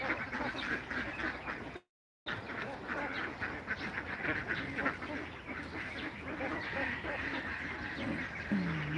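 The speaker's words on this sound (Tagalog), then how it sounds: "Nandyan yung itik sa labas." Domestic ducks quack repeatedly outdoors near a farmyard, a lively chorus of overlapping calls at moderate distance with a brief dropout partway through.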